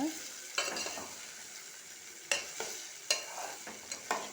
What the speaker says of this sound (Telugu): బెండకాయ వేసి కలుపుకుంటున్నాను అన్నమాట